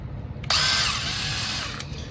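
Power drill running during a decoder install, a sudden high whine that starts partway in and holds steady for over a second before it stops abruptly, close and alone.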